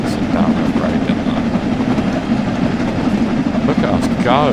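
Locomotive speeding down a steep grade on the Peak Forest line between Buxton and Manchester in Train Sim World, a loud continuous rumble and rail clatter with a voice talking over it.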